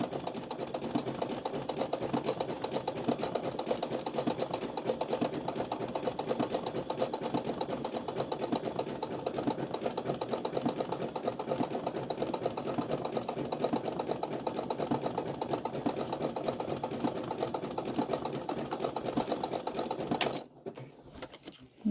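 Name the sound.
sewing machine stitching an appliqué dishtowel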